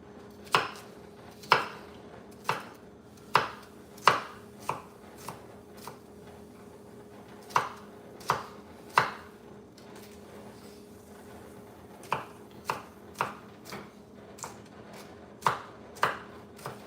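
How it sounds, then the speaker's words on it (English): Knife mincing onion on a cutting board: sharp, irregular chopping strikes in bursts, close and clear, with a steady low background hum and no talk. "I think I minced too much of this onion."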